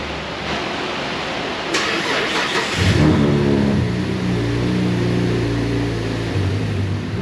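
A twin-turbo Cadillac converted to burn E85 cranks and fires up, a brief starter whir giving way to a close, loud engine that revs up and settles into a steady idle.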